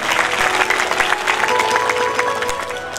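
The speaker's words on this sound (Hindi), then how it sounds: "जोरदार तालियां हमारे माता और भाइयों" Strong applause from a crowd at a Shrimad Bhagwat Katha religious gathering in Nanauta, Uttar Pradesh, with loud continuous clapping filling the space and a faint sustained tone underneath.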